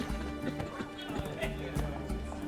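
Rapid hooves clip-clop in a galloping rhythm, close and steady, with a horse's whinny and some voice mixed in, from the video game The Witcher 3: Wild Hunt – Hearts of Stone.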